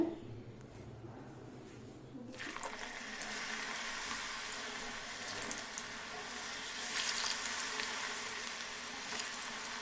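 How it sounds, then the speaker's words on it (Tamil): Food frying in batches in a pan, a soft, steady sizzle that starts after a quieter moment and then carries on evenly, low in level and close by. "ஒரு 4-5 பேட்சாக நம்ம வந்து போட்டு வறுத்து எடுக்க போகிறோம்"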